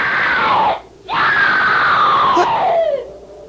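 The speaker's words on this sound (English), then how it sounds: "I heard it, too. Someone screamed." A person screams in a radio drama, a long loud wavering cry that breaks off briefly, resumes, and trails downward before fading.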